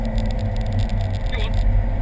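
A car driven hard around the Rockingham track, its engine droning loud and steady under full throttle, heard from inside while a voice talks over it.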